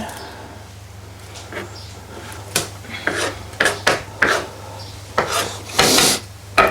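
Garlic is grated by hand for a beer curry, a series of short rasping scrapes that grow quicker and louder toward the end, over a low kitchen hum.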